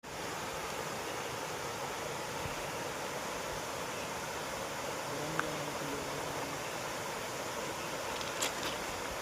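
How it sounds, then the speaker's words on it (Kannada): Steady rain falls along a railway track on a trek toward Dudhsagar, a continuous even hiss of dense drops with a couple of faint distant clicks and no talk. "5:30 ಆದ್ರೂ ಮಳೆ ಬರ್ತಿದೆ"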